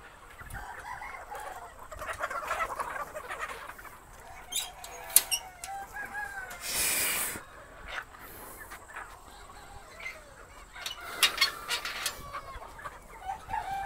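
Chickens and roosters in a poultry shed cluck and call throughout, with scattered squawks and a louder burst midway, fairly close and without talk.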